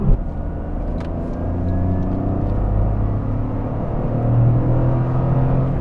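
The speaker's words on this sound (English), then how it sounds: "it's really quiet in here other than the engine" A 2023 Toyota GR Corolla hot hatch cruises along, its engine a steady droning hum inside the quiet cabin with a slight rise in pitch toward the end and no talking.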